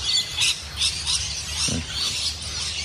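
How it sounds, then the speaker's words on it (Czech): Birds squawk loudly in repeated harsh bursts at six in the morning in Australia, close and raucous, with a low rumble underneath. "Ptáci tady řvou, hned po ránu."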